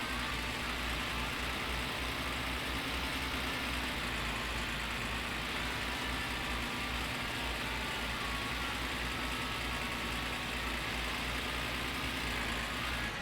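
Car engine in the My Summer Car video game held at high revs in low gear, a steady droning whine with constant loudness throughout, no voices over it.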